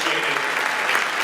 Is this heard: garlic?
no